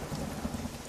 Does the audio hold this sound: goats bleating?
no